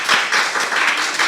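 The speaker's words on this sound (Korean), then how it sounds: "감사와 경례의 박수" A church congregation at a Korean-language worship service applauding in thanks, a brisk, steady patter of many hands clapping together, close and fairly loud for the whole brief moment.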